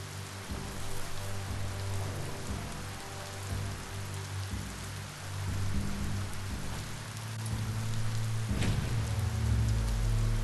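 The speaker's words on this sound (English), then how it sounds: "You can shake the rain off later." Steady rain in the action role-playing game Biomutant, falling across a surface as a continuous dense hiss, joined by low tonal game music and a brief sharp burst near the end, with no talking.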